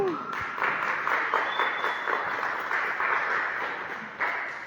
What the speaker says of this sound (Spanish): un aplauso para nuestros conferencistas